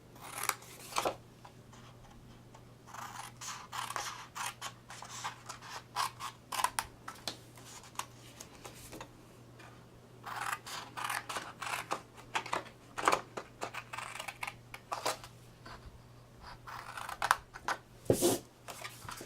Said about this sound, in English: I'm going to cut this piece away.